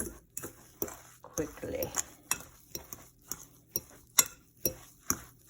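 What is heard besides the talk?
mixing liquid into eggs to temper them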